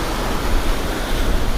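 Sea waves wash and surge steadily during a sea bream fishing outing, a broad, continuous roar of surf close by with no voices over it.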